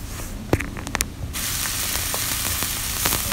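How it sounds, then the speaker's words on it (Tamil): Chopped onion drops into hot oil with cumin and fenugreek, a few clattering taps giving way to a loud, steady sauté sizzle, close by and free of talk. "நம்ம கட் பண்ணி வச்சுருக்கிற ஒரு வெங்காயத்தை போட்டு"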